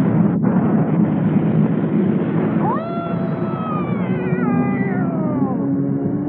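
The cat monster in dubbed Power Rangers Mighty Morphin lets out a long, wavering meow that rises into a drawn-out yowl, loud and close over a steady windy rush.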